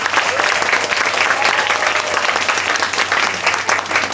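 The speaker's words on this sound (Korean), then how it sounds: "박수 한번 부탁드립니다" An audience applauds steadily at a Korean film's guest-visit screening event, a dense, continuous patter of many hands clapping nearby for several seconds.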